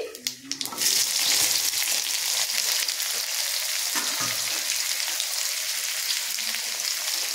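Chopped onion fries in oil in a pan for mutton curry. A few knocks come first, then a loud, continuous sizzle holds steady to the end.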